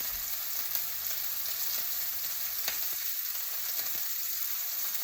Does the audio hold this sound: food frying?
yes